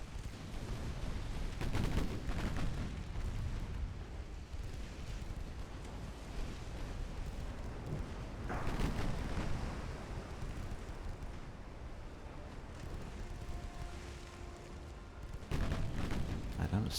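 A warship's rear guns fire in the naval video game Ultimate Admiral Dreadnoughts, with deep booming blasts rising out of a constant rumble of wind and sea noise, a few heavier shots spread across it.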